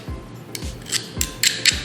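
Several short metallic squeaks and clicks of a garlic press clamping down on garlic cloves, repeated in an irregular rhythm, close and fairly quiet.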